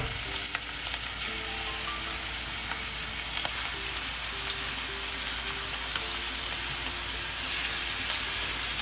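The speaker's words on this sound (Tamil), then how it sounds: "இப்போ நம்ம எண்ணெயில பொரிச்சு எடுக்க போறோம்." Prawns fry in coconut oil in a pan, a dense, steady crackling sizzle that runs continuously and close by, with occasional pops and light scraping as they are stirred.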